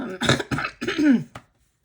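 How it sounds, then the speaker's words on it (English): A woman's lingering cough comes out as a few harsh, throaty bursts in quick succession, close and fairly loud, then silence. "I still have little moments of cough"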